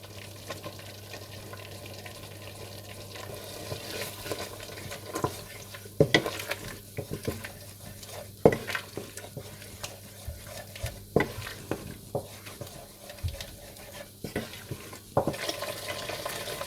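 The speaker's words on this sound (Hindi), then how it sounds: "और फ्रेश क्रीम डालकर अच्छी तरह से भून लें।" Masala being fried with fresh cream in a pan for Kashmiri gushtaba, a steady soft sizzle running throughout with repeated stirring scrapes and clinks of a spoon against the pan, fairly close and moderate in level.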